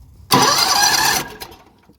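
A Predator 670 engine cranks over on battery power in a single loud, close burst of about a second, then cuts off abruptly into near silence.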